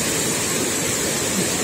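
A waterfall near Uzungöl in Çaykara, Trabzon, on the Turkish Black Sea coast, rushes in a loud, dense, unbroken roar of falling water, heard close by.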